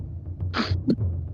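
A single sneeze from someone who says they are a little under the weather, heard during a tabletop role-playing game session, with a sharp sharp burst followed by a short second gasp, close up over low background murmur.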